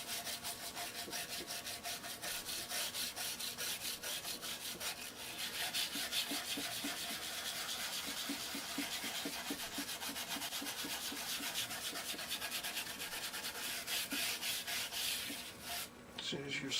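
A Gibson SG guitar fingerboard is scrubbed with a dampened pad, giving quiet, rapid back-and-forth rubbing strokes in a steady rhythm, close and soft.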